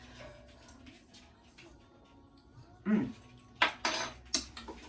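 Spoon clinking against a pot of celery and celeriac soup, a few sharp metallic knocks and scrapes close by after quiet stirring, growing more frequent toward the end.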